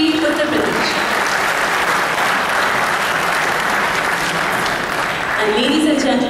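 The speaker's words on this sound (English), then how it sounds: "a louder round of applause for Shri Alok Ranjan, Chief Secretary, Uttar Pradesh" A large audience at a formal ceremony applauds the Chief Secretary of Uttar Pradesh, a dense, steady wash of clapping that holds at full strength for the whole stretch, with faint voices at the edges.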